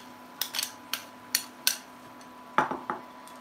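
Cauli rice tipped into a pan, a series of light clinks and taps of a utensil on metal, scattered and fairly close, in an otherwise quiet kitchen.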